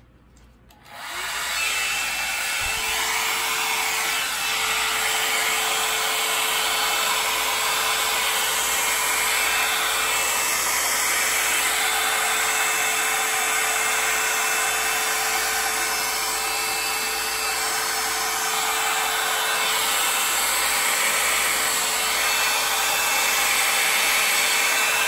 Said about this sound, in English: and now for the heat gun